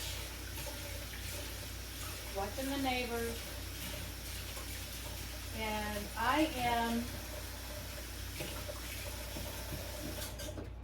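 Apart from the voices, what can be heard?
water running onto a pan at the sink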